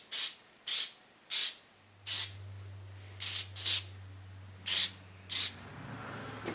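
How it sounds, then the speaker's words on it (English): Aerosol shellac comes from a spray can in eight short hissing bursts of roughly half a second each, loud and close. A low steady hum enters partway through. "I can seal it now with some aerosol shellac"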